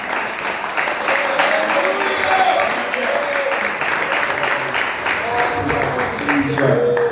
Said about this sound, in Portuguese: Aplaude bem forte ao nome do Senhor Jesus.